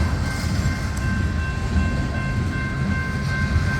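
CSX locomotive 899, with its unusual horn, leads a freight train of gondolas and hoppers past on the Old Main Line. A loud, steady rumble of rolling cars runs throughout, with thin sustained tones that could be a distant horn.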